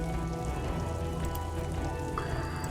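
Steady falling rain in the detective game Disco Elysium, a dense, even hiss of drops pattering on surfaces with no voices.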